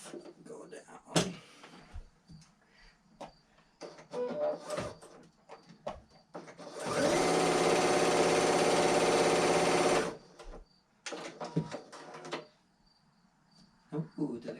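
A Singer 6800C heavy-duty sewing machine stitches through an old pair of shorts in one steady, loud, fast mechanical run of about three seconds, framed by handling clicks, thumps and brief talk before and after.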